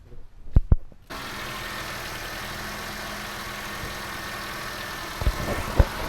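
A Nissan Sunny with a weak battery starts on a jump and settles into a steady idle after a few short knocks, the engine hum continuing evenly with a couple of light clicks near the end.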